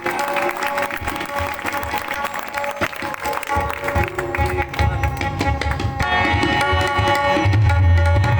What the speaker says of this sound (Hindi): जोर से ताली बजाएं, तालियां